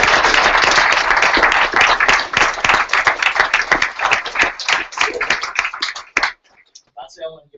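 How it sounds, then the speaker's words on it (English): A hackathon crowd gives sponsors a round of applause: dense clapping that thins out and stops after about six seconds, with a few late claps, no speech over it. "So can we give our sponsors like a round of applause?"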